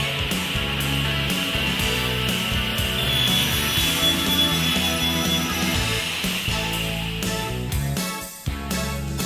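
A Holzma HPL 380 high-performance panel saw cutting wood runs as a loud, steady machine roar with a bright whine on top, carrying on almost unbroken before a brief dip near the end.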